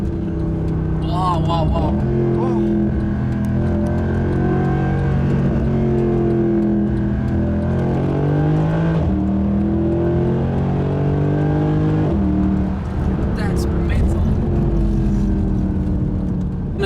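A Mercedes-AMG Black Series pulls away hard on an AMG Owners Club ride-along, its engine note heard from inside the cabin climbing in pitch through the gears, loud and close, as passengers exclaim briefly.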